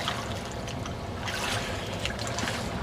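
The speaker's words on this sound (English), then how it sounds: "I can hear it bubbling already" Water bubbles and trickles steadily around a sinking A.L.I.C.E. backpack, a soft continuous gurgle with no voices.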